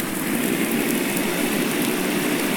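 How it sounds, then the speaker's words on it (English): Dense, steady rain in a farming video game, a loud, even wash of noise that continues unbroken with no voices. "I'm glad I noticed it was raining though"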